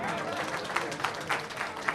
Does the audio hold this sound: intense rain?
no